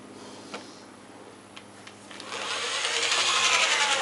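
Power drill boring out soft aluminum rivets from T-top trim, a quiet start with a few faint clicks, then a steady rising high-pitched whine of the drill biting through the rivet over the last couple of seconds.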